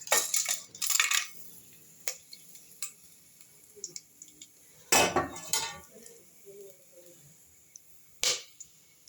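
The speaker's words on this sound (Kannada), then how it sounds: "ಈಗ ಅದು ಕಾದ ಮೇಲೆ ನಾನು ಸ್ಪೈಸಸ್ ಹಾಕ್ತಾಯಿದ್ದೀನಿ ನೋಡಿ." Whole spices, namely bay leaf, cinnamon, clove and cardamom, are dropped into a hot pan, giving scattered sharp clinks and taps with a few louder bursts of clatter and faint sizzling in between, with no speech.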